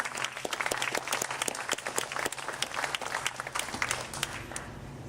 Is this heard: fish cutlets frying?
no